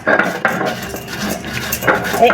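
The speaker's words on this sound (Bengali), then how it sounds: "এরকম করে যেরকম মশলা বাটেন সেরকম করে হালকা হাতে বেটে গুঁড়ো করে নেবেন" Spices being ground into powder by hand with a light touch, giving repeated close scraping and knocking strokes of stone or metal, with brief clinks at irregular intervals.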